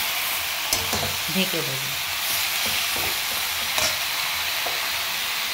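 Spices and Kashmiri chili powder are stirred in a hot pan, a steady sizzling hiss with scraping clinks of a spoon against the pan, close and continuous, while a person speaks briefly over it.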